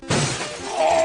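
A sheet of glass carried across the street shatters in the NES Back to the Future video game, a single loud, sudden burst of crashing shards that rings out briefly.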